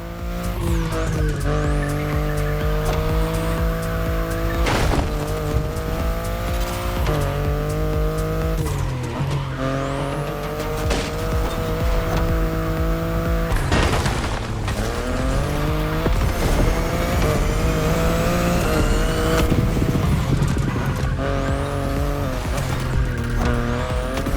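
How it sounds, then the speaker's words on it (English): A BMW i8 sports car in The Crew Motorfest races hard, its loud engine note climbing and falling through gear changes, with tire squeals and skids along the way and no talk over it. "the i8, the sports car you're driving"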